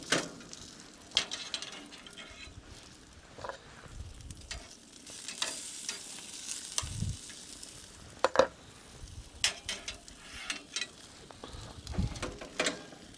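Beef tenderloin sears on a Blazing Bull grill with a steady, close sizzle, broken by scraping and clanking from handling and flipping the meat.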